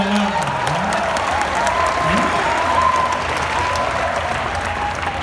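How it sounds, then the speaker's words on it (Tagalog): An audience applauds people holding certificates at a seminar, with sustained clapping from a crowd and murmured voices and faint tones running under it throughout. "Wow, palakpakan natin lahat na may certificates."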